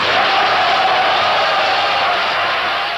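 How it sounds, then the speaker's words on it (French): Large audience roaring with cheers and applause during a political speech, a loud, continuous wall of crowd noise with no gaps. "Au milieu de ce tonnerre d'applaudissements"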